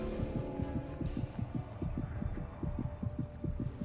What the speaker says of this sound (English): You're feeling the heartbeat